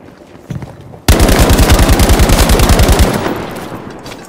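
An assault rifle in Battlefield V fires a loud, rapid automatic burst of about two seconds, close and punchy, after a single earlier shot, then its echo tails away.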